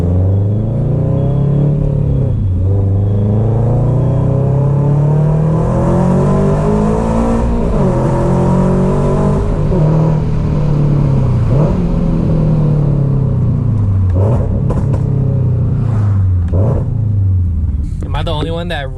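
A 2022 Subaru BRZ engine runs loud and close with a steady droning rumble whose pitch rises and falls in revs, and a few short sharper bursts come near the end.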